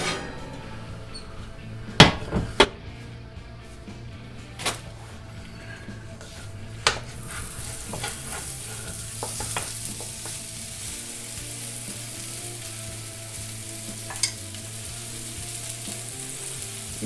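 Potatoes fry in a preheated, piping-hot cast iron pan with a quiet, steady sizzle, punctuated by sharp clacks and scrapes of a utensil, and the hiss grows brighter and denser partway through.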